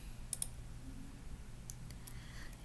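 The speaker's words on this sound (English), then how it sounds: "Now, click on Registration." A computer mouse gives a quick double click, followed by a few fainter scattered clicks, all soft and close against a low steady room hum.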